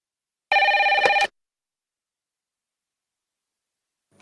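A telephone bell rings in one short, loud burst of under a second, standing alone against silence, with a faint new sound starting at the very end.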